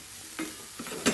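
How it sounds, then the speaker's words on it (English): Onions and mushrooms frying in a pan, stirred in three quick scraping strokes over a soft, steady sizzle; close and moderately loud, with no talking. "So keep it moving, and that way you're not going to end up with too much colour on your onions"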